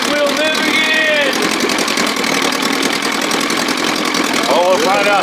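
A 1957 Sea King 5 hp outboard motor runs steadily and loudly close by, a continuous droning engine note with a knocking, idling texture, while people talk over it.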